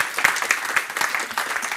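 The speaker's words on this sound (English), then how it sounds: "I think we should give them a resounding round of applause" An audience at a programming conference talk gives a round of applause, a dense close burst of many hands clapping that fills under two seconds at steady moderate loudness.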